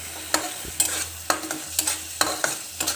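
Masala with slit green chilies fries in a pan, a low steady sizzle under repeated sharp scraping strokes of a spoon, about two per second, close and clear.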